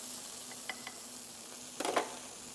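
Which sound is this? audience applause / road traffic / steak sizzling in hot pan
steak sizzling in hot pan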